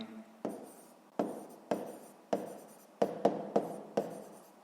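Pen strokes on paper while working a sixth-grade maths exercise: a series of about nine sharp scratching strokes in an uneven rhythm, close and clear, each fading quickly, with no talk.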